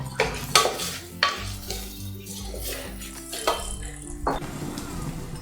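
A ground spice mixture fries and is stirred in a pan for a village-style moong dal khichdi, with a spoon repeatedly scraping and clinking against the metal under a soft sizzle, close and irregular.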